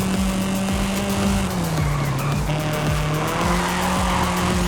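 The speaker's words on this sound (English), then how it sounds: "And this car is loud." Race car in Forza Horizon 5 on a touge mountain road: a loud, steady engine drone with pitch shifts and tire squeal running throughout, continuous and close, with no talk.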